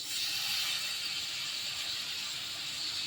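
Bitter gourd chorchori fries in fish oil with cumin, coriander, pepper and turmeric, giving a soft, continuous high hiss of sizzling oil that stays even throughout, with no talking.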